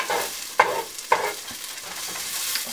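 Bell peppers pushed around a hot skillet with a spatula: a soft continuous sizzle broken by a few sharp scraping strokes, close and moderately loud, no talking.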